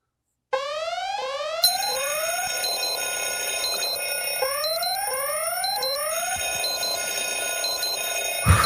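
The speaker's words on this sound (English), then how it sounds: "There's the alarm." An electronic alarm goes off loudly: rapid rising chirp sweeps repeat in bursts, then a steady pattern of high beeping tones layers over them and keeps sounding to the end, with no talking.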